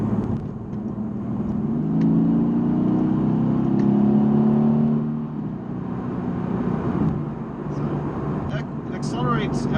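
A 2017 Mercedes-AMG GT S accelerates up a highway on-ramp, a low engine note rising in pitch and growing louder before easing off, heard from inside the car with someone talking over it.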